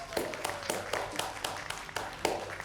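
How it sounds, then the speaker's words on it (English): A small group gives a round of applause with sharp, separate claps landing in a loose, fairly regular rhythm, sounding few and close rather than like a big crowd. "Let's give them a big round of applause"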